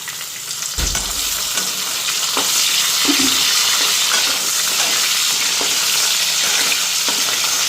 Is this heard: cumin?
yes